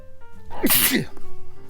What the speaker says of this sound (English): I'll probably edit the sneeze out.